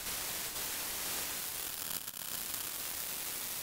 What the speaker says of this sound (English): if the noise is being multiplied into a ring mod of noise